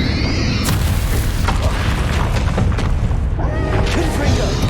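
A Bombarda spell explosion from the Hogwarts Legacy video game: a loud, dense boom and crash filling the whole stretch, thick with rumble and debris-like bursts amid continuous spell-battle noise.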